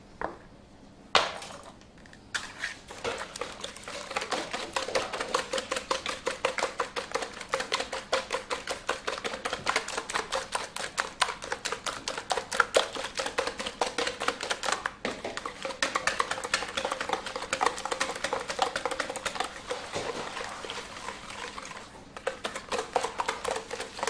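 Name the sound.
whisking cake batter with sugar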